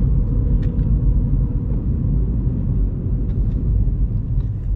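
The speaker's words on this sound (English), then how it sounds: "The petrol engine's quite punchy." A Mini Cooper's petrol engine drones as a steady, low rumble on a test drive, heard from inside the cabin without talk.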